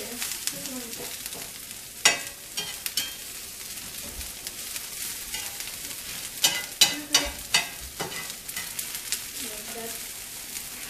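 Onion frying in a pan for traditional bubble and squeak: a steady, close sizzle runs throughout, broken by occasional scraping and clattering as it is stirred.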